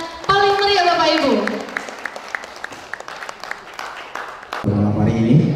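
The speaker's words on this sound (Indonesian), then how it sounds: "Kita berikan tepukan yang paling meriah Bapak Ibu." A crowd applauds steadily at an evening installation ceremony for a city chamber of commerce board in Dumai, while a voice speaks over it and music swells in at the end.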